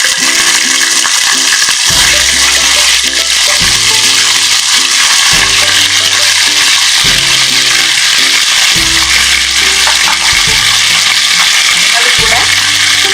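Washed chicken sizzles loudly and steadily in a pan, with repeated scraping and stirring thumps every couple of seconds.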